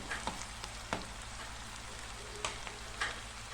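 Chopped ambadi (sorrel) greens drop into a frying pan for a garlicky stir-fry, giving a faint steady sizzle with a few soft clatters and stirring taps, no talking.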